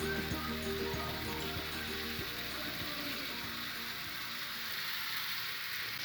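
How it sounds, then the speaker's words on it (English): Kenyan beef samosas fry in hot oil, a steady crackling sizzle with dense bubbling that holds evenly throughout at moderate volume, no talking. "I'm frying the one I was calling waste"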